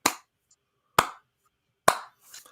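Three slow, evenly spaced single claps from one person in an otherwise silent soundstage, sharp and close, each ringing briefly before fading.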